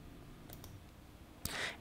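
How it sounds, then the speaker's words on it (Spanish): Computer mouse clicks while editing WordPress widgets: a couple of faint, quick clicks, then a louder, sharper click near the end over quiet room tone. "si queremos editarlo, simplemente tendríamos que darle clic"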